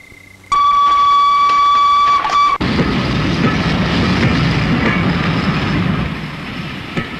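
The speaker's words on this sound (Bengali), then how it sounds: "ওটা তো মেল ট্রেন, সিগন্যাল পাইনি বলে দাঁড়িয়েছিল।" A mail train gives a long loud horn blast, then roars past close by with a heavy, continuous rumble and clatter of wagons that holds to the end.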